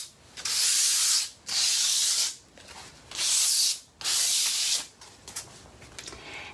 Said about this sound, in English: just kind of a light touch to sand off any of the grittiness that's left